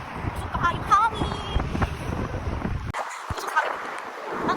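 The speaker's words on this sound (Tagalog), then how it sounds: "Grabe ang hangin." Strong wind buffets the microphone outdoors in gusty rumbling bursts, with people talking and laughing nearby over the roar.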